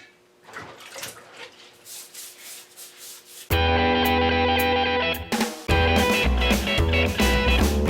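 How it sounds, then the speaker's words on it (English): An ear of corn is scrubbed by hand to remove the silk, giving soft, uneven rubbing strokes close by, followed by a much louder, steady rush like running water. "so just a couple little scrubs, and then it goes over into the pan"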